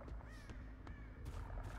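Crows cawing in the horror game Dead by Daylight, a few rising harsh calls at moderate distance over a steady background ambience.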